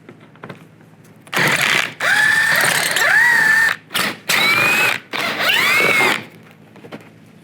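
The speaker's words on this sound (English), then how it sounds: "On each side you're going to take a 7mm socket and take these bolts out right" Bolts coming out of a 2010-2016 Buick LaCrosse during a headlight replacement, driven with a 7mm socket: several close, loud whirring runs of the driver, with short gaps between them and a quiet pause before and after.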